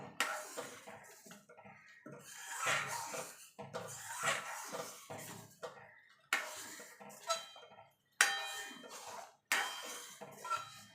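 A utensil stirs lentil dal in a metal pot with yellow turmeric added, making a series of soft scraping and clinking strokes in separate bursts, close and fairly quiet, with no one talking.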